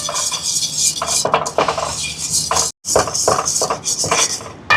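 A spoon scrapes and clatters against a pan as gram flour is stirred into a Mysore pak mixture, a continuous busy metallic scraping close by with one brief break.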